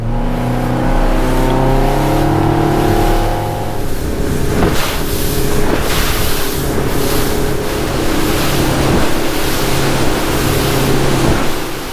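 A motorboat engine roars at full throttle, droning loud and steady for the whole stretch, with wind and water rushing alongside.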